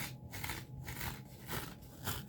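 Close, dry crunching as a brittle, mildly bleached sponge is squeezed, several rough crackling bursts in quick succession, quiet and near.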